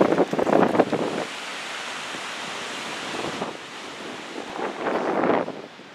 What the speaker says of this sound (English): You can completely smell the freshness of the ocean here, as well as the extreme wind